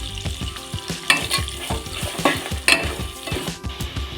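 Dried red chillies and curry leaves, added to a pan for raw mango rice, crackle loudly in hot oil, with quick, rhythmic stirring scrapes and sharp spitting pops close by.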